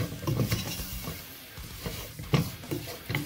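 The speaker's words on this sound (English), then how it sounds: "you want to stir this around for about a minute" Roux being stirred in a pot for New England clam chowder, giving soft scraping and clinking strokes of a utensil against the pot in an irregular rhythm, close and moderately quiet.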